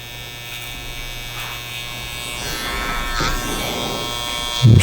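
An electric trimmer buzzes steadily up close while tidying a beard and goatee, its hum shifting slightly in tone as it moves over the hair, ending with a louder burst.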